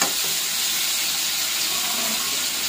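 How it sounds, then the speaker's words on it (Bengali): Hot water pours steadily into a pan of fried, simmered soybean chunks, a broad rushing hiss with sizzling and steam throughout, close and fairly loud with no talk. "গরম জল দিয়ে দেবো এখন"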